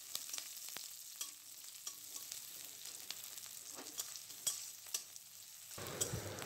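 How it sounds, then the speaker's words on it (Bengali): Chopped onion and green chilli fry in hot refined oil, a close steady sizzle broken by repeated scraping stirs in the pan, with no voices. "তেলটা যখন গরম হয়ে গেছে এবার আমি এতে দিয়ে দিচ্ছি পেঁয়াজ কুচি এবং কাঁচা লঙ্কা কুচি"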